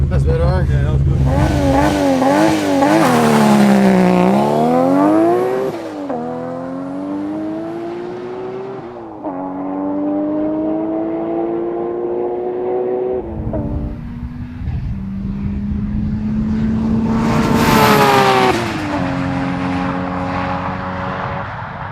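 Nissan GT-R cars, about 7000 hp combined, accelerating hard down a slippery runway, engines rising through several loud rev sweeps and gear changes, one car after another, close and dominant throughout.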